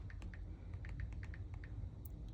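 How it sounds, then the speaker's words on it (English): Someone typing a file name on a keyboard, a quick run of soft, light key clicks in an uneven rhythm, faint and close over a low background hum. "I'm going to type in checkered cherry, strawberry"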